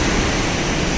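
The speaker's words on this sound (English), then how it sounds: "Dirty water pouring off the hills." A waterfall of muddy, dirty water pours off the hills near Hawes, England, a loud, steady roaring rush filling the whole moment without any voices.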